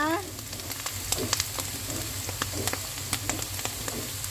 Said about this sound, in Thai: ตอนนี้กำลังอ่าเจียวรอบที่สองนะคะ